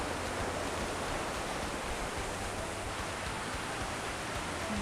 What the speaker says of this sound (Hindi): बहुत बड़ी लहरें हैं यार